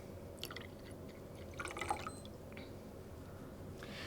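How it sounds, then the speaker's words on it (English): Water poured into a glass holding a layer of syrup, heard as soft, close drips and a brief splashy trickle in a quiet room, with small liquid plinks scattered across a few seconds. "let's see what happens when I pour the water into the glass."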